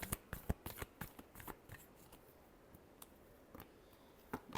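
Tarot cards being shuffled by hand, a run of quick crisp riffling snaps and flutters, loudest at the start, thinning out midway, then a few final sharp flicks, close and alone with no talk.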